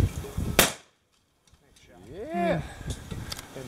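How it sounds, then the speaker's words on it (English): A gunshot fired outdoors at cans, one sharp loud crack near the start followed by near silence, then a person's voice rising and talking. "Brace it against your shoulder so there's not too much kickback. And fire."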